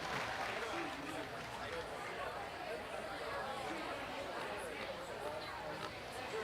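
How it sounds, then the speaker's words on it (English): Crowd applause for the winners of a swine show class at a county fair, a steady wash of clapping and chatter filling the arena throughout. "Let's give both of them a real nice round of applause in our whole class."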